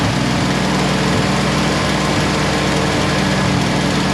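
A Jeep Willys engine idles steadily and loudly up close, a constant rough drone with no talking over it.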